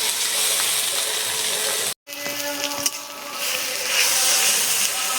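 Ginger garlic paste dropped into onions frying in hot oil, a steady loud sizzle and hiss that briefly cuts out, then resumes with crackling and spattering as the mixture is stirred.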